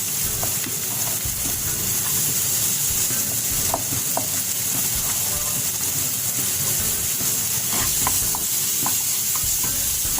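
Onions sizzling and frying in a pan for seafood adobo, a dense steady hiss with scattered pops and light stirring scrapes, close and constant throughout.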